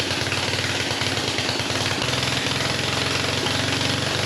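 A 1957 Gard'n Mast'r garden tractor engine, long parked and running rich with fuel overflowing the carburetor, chugs loudly and steadily up close with a rough, uneven pulsing beat.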